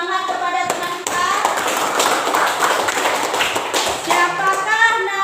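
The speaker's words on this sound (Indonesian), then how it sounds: "tepuk tangan dulu untuk beri semangat kepada teman kita" Classroom students clap together to encourage a classmate, a dense burst of hand claps filling most of the clip with some children's voices and chatter mixed in.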